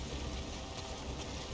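Steady rain in the video game Nioh, a constant dense hiss without a break across the short stretch, with no voices over it.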